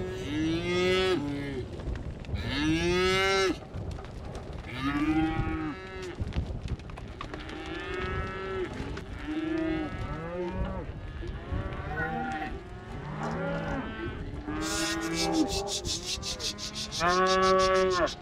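Cattle moo loudly and repeatedly as big calves are split off from their cows, with overlapping calls from several animals close by and some rubbing and scuffing noises between them.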